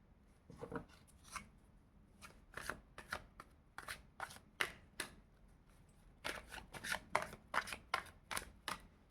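Tarot cards shuffled close by in quick riffling bursts, a pause, then a longer run of crisp, rapid card flicks, with no talk.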